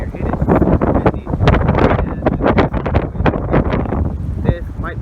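Strong gusting wind from a severe thunderstorm outflow with blowing dust near Bakersfield, California, buffeting the microphone in loud, ragged bursts throughout.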